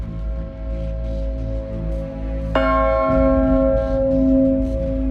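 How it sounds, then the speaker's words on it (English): Church bells chime in a dramatized scene, a resonant ringing tone with a fresh strike partway through, sustained and fairly loud, heard alone without speech. "The church bells chime."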